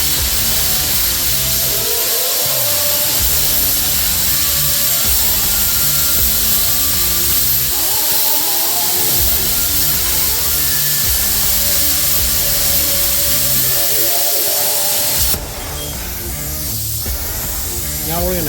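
A Bestarc BTC500DP pilot arc plasma cutter slices through metal at 33 amps, giving a loud, continuous close-up hiss that shifts in tone near the end, with voices faintly underneath.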